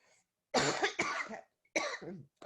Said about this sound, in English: so you just got my cough